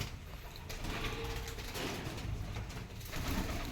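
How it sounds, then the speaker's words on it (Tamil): Pigeons in a home garden, wings flapping and fluttering close by in a continuous busy clatter, with soft cooing and garden noise, no talk. "புறா வந்து பறக்குது."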